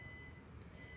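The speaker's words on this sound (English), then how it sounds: "Sorry if you can hear the beeping in the background and stuff." A faint, steady electronic tone from a washing machine beeping somewhere in the background, held under a low household hum.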